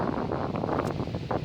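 Steady wind buffets the microphone on the Lake Michigan shore in fall, a continuous close rumbling rush with no pauses and no voices.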